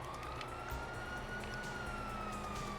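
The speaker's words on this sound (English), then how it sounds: "you hear that? Sirens, fuck the cops." Police sirens wailing faintly in a video game, a steady distant siren tone over low background rumble, no talk.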